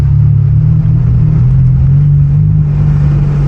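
A rear-wheel-drive coupe drifting in snow during a Canadian blizzard: its engine makes a loud, steady, low droning rumble close up, with no talking.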